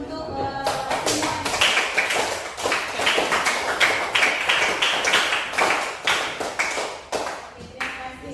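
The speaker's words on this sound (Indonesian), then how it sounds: "Tapi sebelumnya tepuk tangan dulu untuk semua." A classroom of students claps for everyone together, a dense steady burst of hand claps lasting several seconds at close range with no talking.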